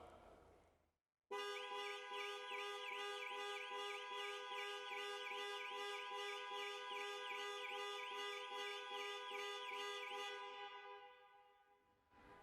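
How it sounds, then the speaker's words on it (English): A 2020 model-year Land Rover Discovery Sport's panic alarm blares its horn in rapid repeated pulses for about ten seconds, loud and steady, then cuts off. "the horn will sound and the hazard lights will flash"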